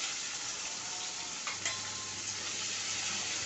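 Marinated paneer pieces frying in hot mustard oil, giving a steady dense sizzle throughout, with a soft splash and crackle as a piece drops in midway.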